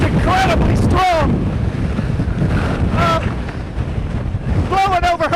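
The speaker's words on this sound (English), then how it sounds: "Blowing over hurricane force. I can't stand here without leaning. Just incredible, incredible wind." Hurricane-force wind roars and buffets hard against the microphone beside the intracoastal waterway, loud and constant, with rising whistling gusts and a low, surging rumble.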